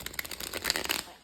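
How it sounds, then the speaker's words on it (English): Large tarot cards being shuffled by hand, a close, soft run of quick riffling flutters and papery slaps lasting about a second, quiet and with no talk. "So I like to shuffle the cards 3 times"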